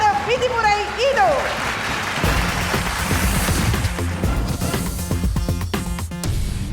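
An audience at a school quiz competition grand finale breaks into dense, sustained applause after a brief voice and tonal sound at the start, filling the hall for several seconds.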